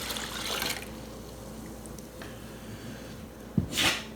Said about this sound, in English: you're going to take 4 cups of water, and you're just going to pour it right in.